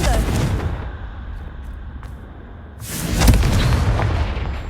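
A Confringo blast spell in the Hogwarts Legacy video game lets off a heavy booming explosion, loud and close. A second, louder boom follows a few seconds later after a short quieter gap.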